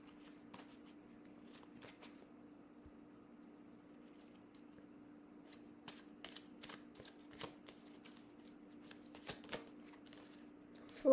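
A tarot card deck is shuffled with soft, quick riffling and flicking of cards in short bursts over a steady low hum, faint and close, with no talking.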